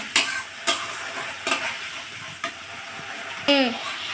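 Spice masala with turmeric is being stir-fried in a pan over lowered heat, with a steady close sizzle broken by several sharp scrapes of a spoon at regular intervals.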